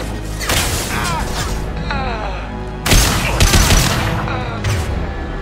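Heavy gunfire and an impact-shot blast in Mass Effect 2, loud bursts of rapid shots with a sharp boom near the midpoint and another crack near the end, voices faintly under the combat.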